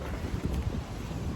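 Wind blowing on a warm day in Tenerife, a steady, loud low roar and rumble buffeting the microphone throughout, with no other sounds standing out.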